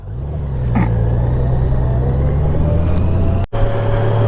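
A 2018+ Honda Goldwing motorcycle rides in economy mode, giving a steady, close, low engine drone mixed with wind rush that holds evenly throughout, broken only by one very brief dropout.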